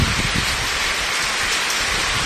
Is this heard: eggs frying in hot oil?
no